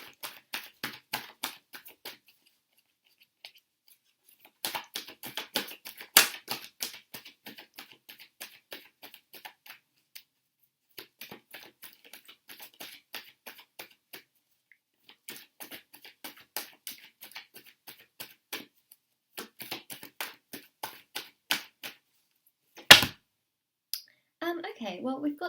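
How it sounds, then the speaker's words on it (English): A deck of tarot cards is shuffled and handled, with bursts of quick, crisp riffling clicks separated by pauses, close and fairly quiet, plus one loud thump near the end. "let's just grab the last two cards."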